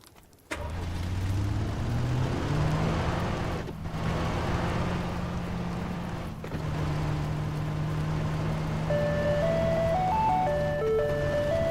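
In the game PUBG, a car engine starts and idles steadily, then its horn plays a short bright melody of rising and falling notes over the motor hum.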